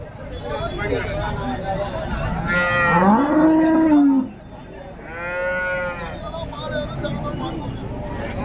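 Cattle moo loudly nearby at a cattle market in Karimangalam, Dharmapuri district, two long lowing calls a few seconds apart, over a background of people chatting and ambient noise.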